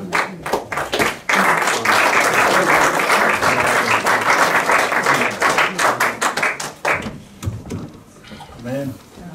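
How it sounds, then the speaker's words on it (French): A church congregation bursts into loud applause during a sermon, thick rhythmic clapping that swells, then thins into scattered claps and voices near the end. "Applaudissons pour l'homme de Dieu"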